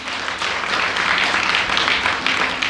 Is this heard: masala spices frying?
no